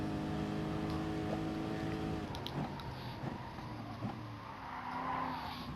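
A GR3 race car in a Gran Turismo daily race at Dragon Trail Gardens holds a steady high engine note that drops as it slows for a corner, with faint tire noise and another car nearby.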